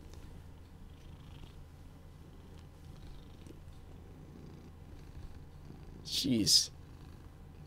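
A pet cat purrs close to the microphone, a soft, steady low rumble running throughout, while someone talks briefly and a short louder rustle or nuzzle sound comes near the end.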